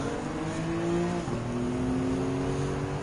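Engine of a 1980s BMW M3 race car in Gran Turismo 7, a steady high whine with shifting pitch as it runs and overtakes, continuous and fairly close.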